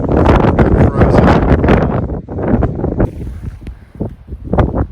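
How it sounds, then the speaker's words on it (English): Strong wind gusting across the exposed summit of South Twin at 4,902 feet on a freezing day, buffeting the microphone in loud roaring bursts that ease toward the end. "Yep, it's freezing up here. Windy."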